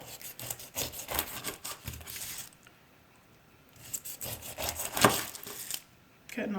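A knife trims the rind off the edges of a very ripe pineapple, giving rough scraping, sawing strokes in two bursts separated by a short pause, close and fairly quiet.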